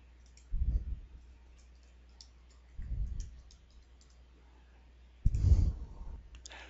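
Three soft, isolated clicks of a computer mouse, spaced a couple of seconds apart, sound close and quiet in an otherwise near-silent room.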